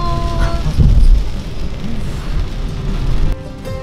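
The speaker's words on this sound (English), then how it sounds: "Bet you missed driving in the rain," Steady rumble of a car driving through rain in Eskisehir, Turkey, with a low road roar and rain noise washing over the cabin.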